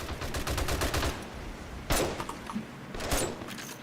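Rapid bursts of 7.62 rifle fire in the zombie-survival game 7 Days to Die, a fast run of sharp shots at the start followed by two louder isolated cracks, close and prominent with no talking.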